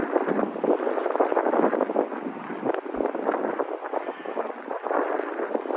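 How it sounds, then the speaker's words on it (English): Constant wind buffeting a microphone on an outdoor walk in Regina's Glen Elm neighbourhood, a rough low roar that rumbles and gusts without pause, loud and close. "Sorry about the wind."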